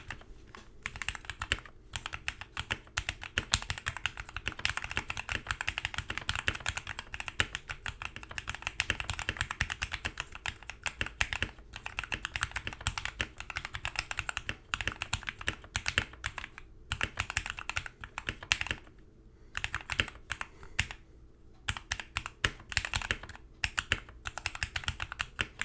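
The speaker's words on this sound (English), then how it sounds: "And here is a full typing sound test." Steady mechanical keyboard typing on a Redragon Fizz K617 60% board with lubed and filmed switches, a dense run of close, even keystrokes with brief pauses and no talking.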